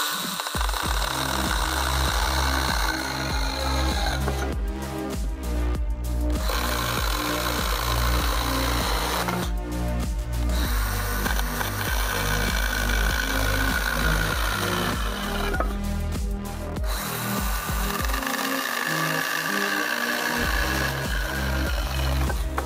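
A ValueMax 12V battery mini chainsaw, a pruning saw, cuts steadily with a continuous high motor whine that holds through the whole stretch, dipping briefly a few times.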